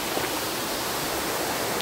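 Water flows steadily at a village watering place, a constant broadband rush close by with no voices.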